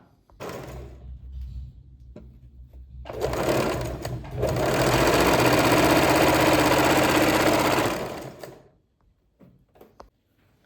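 A sewing machine stitches a folded abaya seam, starting with short bursts, then running steadily and loudly for several seconds before stopping, close up with no talking.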